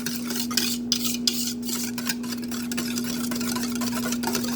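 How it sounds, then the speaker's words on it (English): A whisk works chocolate pudding ingredients in a bowl, making a rapid, continuous scraping and clicking against the sides, with sharper taps now and then over a steady low microwave-like hum. There is no talking. "The trick to making pudding in the microwave is whisking all your ingredients up good."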